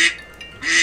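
Two short duck quacks from the video game Destiny 2, one at the start and one at the end, loud and close, with a quieter stretch between them.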